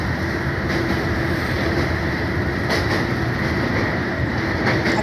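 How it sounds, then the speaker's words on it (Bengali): A train rumbles steadily across Bally Bridge, a dense continuous roar of wheels and wagons with faint rhythmic clatter, loud and close throughout without any voices. "যে ট্রেনটা যাচ্ছে বালি ব্রিজের ওপর দিয়ে, ট্রেনটা যাচ্ছে"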